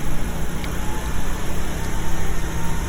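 A Weldanpower 225 welder's engine runs steadily on its first start, giving a loud, continuous rumble that holds without a break.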